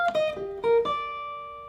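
Jazz guitar plays a well-known lick, a quick run of clean picked notes ending on a sustained ringing tone, close and alone.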